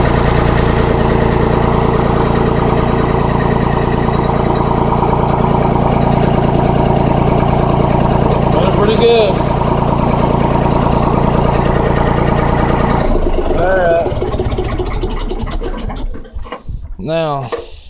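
A Ford 3000 tractor engine runs steadily after a cold start, a loud continuous low drone that holds for most of the clip before thinning and becoming rougher near the end.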